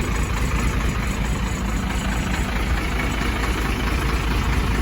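Steady, close diesel idle from a Ford F600 turbo diesel dump truck as the bed is lowered, a constant low rumble with no talk over it.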